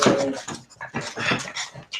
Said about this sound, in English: This is Liana, the Boston Terrier